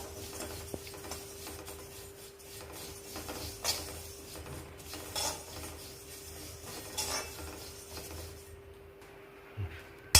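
Cumin seeds dry roasting in a pan give off quiet, intermittent scraping and rattling as they are stirred, with soft clinks of the utensil against the metal.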